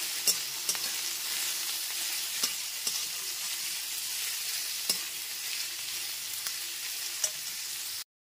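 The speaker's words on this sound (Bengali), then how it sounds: "গ্যাসের ফ্লেমটা লো টু মিডিয়ামে রেখে পেঁয়াজটা লাল করে ভেজে নেব" Thinly sliced onion fries over low-to-medium gas flame in a pan for masoor dal khichuri, a steady close sizzle with scattered light clicks of stirring, no voices.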